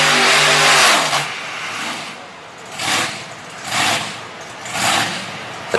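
A broken racing truck at a tough truck event has a loud engine that drones and then surges in three repeated revving swells, close and harsh.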